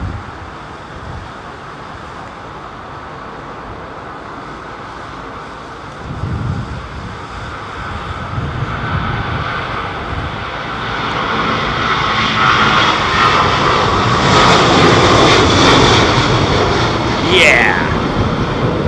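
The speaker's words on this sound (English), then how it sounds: "Oh, we've got a freighter coming out. It's going to go up like a skyrocket" Jet freighter taking off at Heathrow, a broad engine roar swelling from distant to loud and sustained through the latter half, with wind noise and faint voices underneath.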